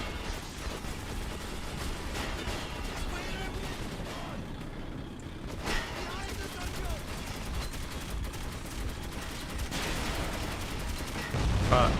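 Gunfire in the video game Metro 2033 Redux: rapid, sustained bursts of shots and mechanical clatter fill the scene at close range, growing louder toward the end.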